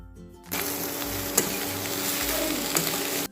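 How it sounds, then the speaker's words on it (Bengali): Onion stalks are poured into a wok with fried egg, bursting into a loud, steady sizzle after a brief quiet start, with a couple of sharp clinks as the frying goes on. "ডিমটা ভাজা হয়ে গেছে এখন পেঁয়াজ কলিটা আবারও কড়াইতে ঢেলে দিচ্ছি"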